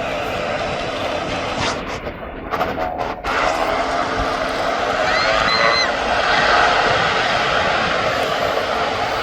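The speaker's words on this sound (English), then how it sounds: "So the Aer Lingus is now on his way out." An Aer Lingus airliner departs Birmingham International Airport, its jet engines producing a steady broadband roar that swells gradually in loudness, heard from outside at a distance.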